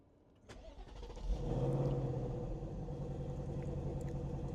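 A 2025 Ford Mustang GT engine cranks briefly, then catches and settles into a deep, steady idle rumble that stays fairly loud.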